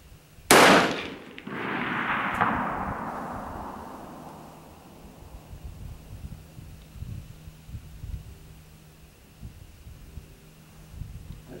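Rifle shot fired at a range target: one sharp, loud crack followed by a long rolling echo that fades over several seconds, then quiet outdoor ambience.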